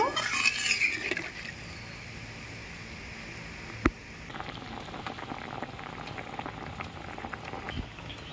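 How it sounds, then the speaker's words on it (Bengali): Rohu fish curry broth with potato and pointed gourd bubbling in a pan, a soft continuous simmering fizz with a brief louder stir at the start and a single sharp knock partway through. "ঝোলটা ভালো করে ফুটিয়ে নেব।"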